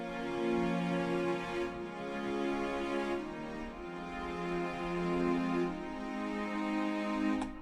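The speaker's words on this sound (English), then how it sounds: "And now I added more strings." Lush orchestral strings from a Kontakt sample library hold long, smooth chords with slow movement between notes, steady and moderately loud with no voices.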